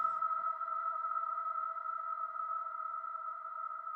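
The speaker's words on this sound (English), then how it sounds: "So this is just playing an E natural note." Sustained synth drone holding a single E natural note, a steady pure tone with a few clean harmonics, unchanging and alone for the whole stretch.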